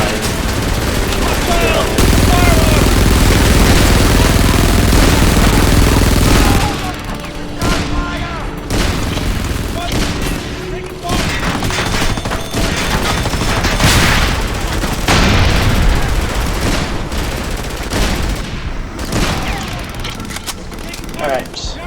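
Gunfire in the war shooter Frontlines: Fuel of War, with dense sustained bursts and booms at first, then scattered shots and rattling exchanges continuing loud throughout, mixed with game noise.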